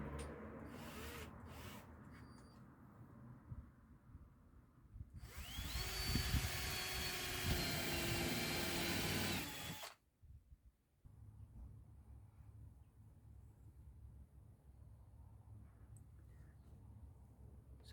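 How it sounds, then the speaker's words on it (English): A power drill countersinks and drives screws into the subfloor of a Transit Connect van conversion, one loud, steady, whirring burst of several seconds that stands out sharply against quiet surroundings. "just countersink and screw."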